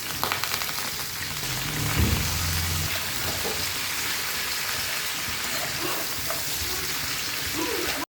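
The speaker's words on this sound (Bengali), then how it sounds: "মাছ ভাজা তেলেই কালো জিরা ফোড়ন দিয়ে সবজিগুলো দিয়ে দিলাম" Potatoes, eggplant and drumstick vegetables dropped into fish-frying oil tempered with black cumin, giving a loud, continuous crackling sizzle with a brief thump near the start, no one speaking.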